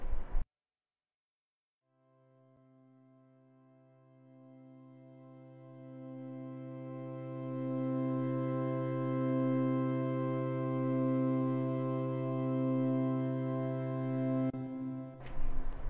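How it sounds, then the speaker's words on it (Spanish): A chord played on the free Helm software synthesizer swells from silence into a sustained, steadily growing harmonic pad. It holds at full strength for over ten seconds before cutting off. "es un acorde que crece"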